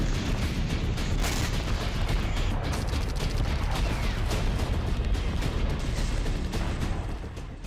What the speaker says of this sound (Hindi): अज़ोवस्ताल प्लांट पर थर्मोबैरिक रॉकेट से अटैक का वीडियो सामने आया है